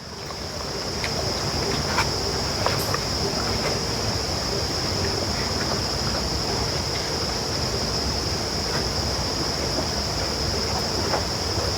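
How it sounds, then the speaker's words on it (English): Crickets and cicadas trill continuously in a morning countryside, a steady high-pitched insect drone with faint rustling and ambient noise beneath, no talking. "there's crickets and cicadas"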